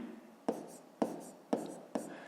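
A pen writes out a fifth-grade math exercise on paper, four short scratching strokes landing at a regular rhythm, close and quiet with no voice over them.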